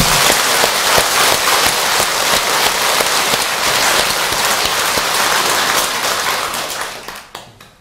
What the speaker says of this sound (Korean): 크게 박수 칩니다.